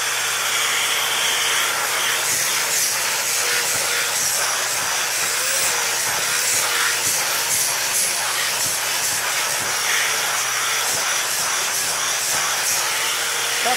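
A Dyson vacuum cleaner fitted with a tangle-free brush head runs continuously, giving a loud, steady airy hiss and whoosh that wavers slightly but never stops.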